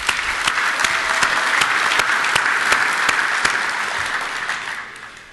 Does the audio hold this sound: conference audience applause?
yes